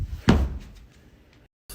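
A door swings open with one solid thunk followed by a brief fading rattle, then a moment of silence and a short burst of noise at the end.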